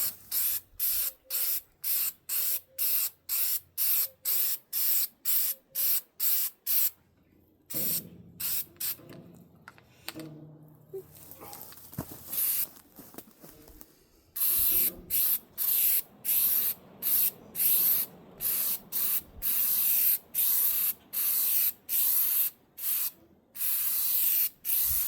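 Rhythmic short hissing bursts from a spray can coating the inside of a root cellar, repeated regular sprays, then a quieter stretch of rubbing and shuffling before the bursts resume, close and without talk.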